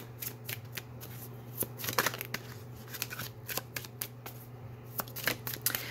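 A deck of tarot cards is shuffled close by with quick irregular flicks and riffles, sharp crisp clicks scattered over a low steady hum, with no talking.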